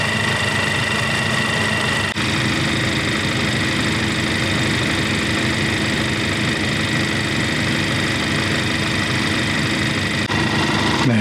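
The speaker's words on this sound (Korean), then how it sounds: "엔진은 일단은 X축 좌우로 좀 많이 떠는 편이고요" A 2015 Cadillac ATS 2.0 engine idling with an oil leak at the transmission pan and cooler pipe, a steady, loud, continuous hum and vibration throughout with no talking.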